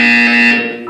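A loud, harsh electronic buzzer sounds once in the video game Portal 2, a short steady tone that cuts off abruptly after under a second.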